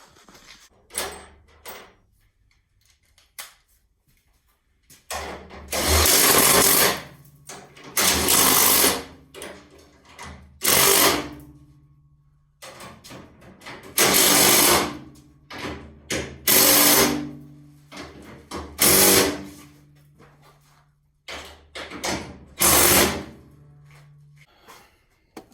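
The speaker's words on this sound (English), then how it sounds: "I got to tighten up the rest of these bolts" A ratchet tightens bolts on car floor pans in a series of bursts. Each burst is a close, rapid clicking run lasting a second or two, separated by quiet pauses.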